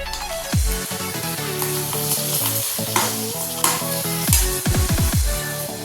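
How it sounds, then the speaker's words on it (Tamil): Papad frying a piece at a time in hot oil for pappada chammanthi, giving loud bubbling sizzle mixed with repeated clinks and scrapes of a utensil against the pan. "கொஞ்சம் கொஞ்சமாக வறுத்தெடுப்போம்"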